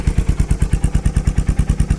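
A Royal Enfield Hunter 350 single-cylinder motorcycle fitted with a Coffman's Shorty slip-on exhaust idles close by with a deep, throaty, evenly spaced thumping pulse and no talking.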